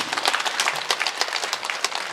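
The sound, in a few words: church congregation applause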